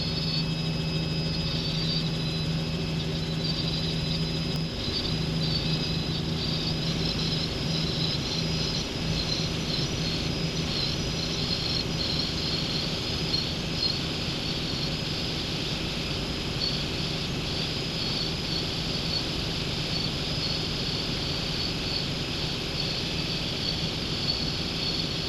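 A Robinson R66 helicopter flying at night over central London, its steady turbine whine and rotor drone continuous and close throughout, with no speech.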